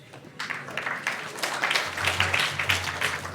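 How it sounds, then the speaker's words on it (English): Scattered clapping from a small group at a Hare Krishna gathering, a loose patter of hands that thickens midway, with a low steady hum running underneath and no talk. "Giving a round of applause there."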